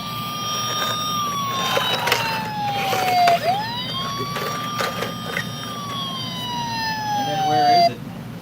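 A toy ambulance siren wails close and loud, its electronic tone gliding slowly downward, snapping back up and sliding down again across several seconds, with faint background noise beneath.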